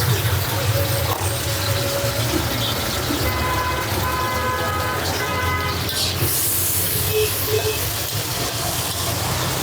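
Steady rain falls outside in a broadband wash behind a kitchen where rohu and tilapia fish curry is being cooked, with faint clinks and a voice speaking quietly under the patter throughout.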